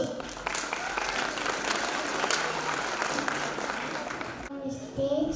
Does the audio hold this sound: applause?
yes